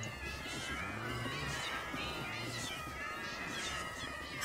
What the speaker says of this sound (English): Listen to the meowing!